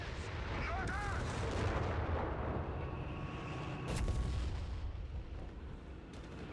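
Continuous artillery barrages and gunfire from a Company of Heroes 3 1v1 match between US and Wehrmacht forces, a dense rumbling wall of booms and shots with a louder blast near the middle.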